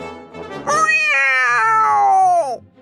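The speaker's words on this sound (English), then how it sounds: "A cat with sharp teeth and sharp claws jumps up on the table." A single long, loud meow from a city cat, rising at the start and then holding a drawn-out tone before dropping away, heard alone and close up.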